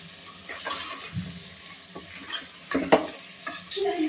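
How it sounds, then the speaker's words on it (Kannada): Vegetables and masala fry in a pan for a white pulao, with a soft sizzle broken by stirring scrapes and a few sharp clinks of a spoon against metal. "ಇದೀಗ ಸ್ವಲ್ಪ ಫ್ರೈ ಆಗಬೇಕು ಕ್ಲೀನಾಗ, ಮಸಾಲೆ ಎಲ್ಲ ಇದ್ದು ಬೇಯಬೇಕು."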